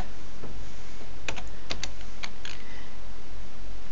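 Keys clack on a computer keyboard as switch configuration commands are typed, in a few quick clustered taps over a steady background hiss.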